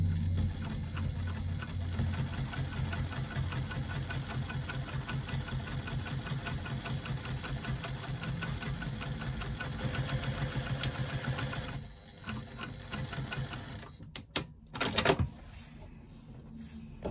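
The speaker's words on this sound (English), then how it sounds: "I'm just going to top stitch along the top of my pocket using an 1/8 inch seam allowance." Sewing machine top stitching along a fabric pocket with an eighth-inch seam allowance, a steady close rapid whir that runs continuously before slowing and stopping near the end.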